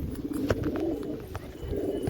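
An old white pigeon's low, throaty coos roll on steadily, close by, with a few soft clicks and rustles mixed in.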